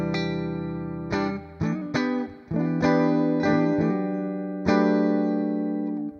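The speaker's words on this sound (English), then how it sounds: "Let's see the twin reverb, classic." Electric guitar played through an AmpliTube 5 model of a Fender Twin Reverb amp with the bright switch on: a few ringing chords struck one after another, each left to sustain and decay cleanly, heard alone.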